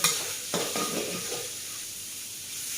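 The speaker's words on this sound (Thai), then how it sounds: "พอผัดกระเทียมแล้วก็ใส่หมูลงไป จะใส่เท่าไหร่ก็แล้วแต่เรานะคะ ผัดให้หมูสุกเลย" Pork and garlic stir-frying in a pan for dry suki, opening with a loud sizzle and clatter of the spatula that settles into a quieter, steady frying hiss with no talking.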